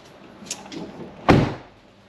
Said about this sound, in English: We're going to open the driver's side door.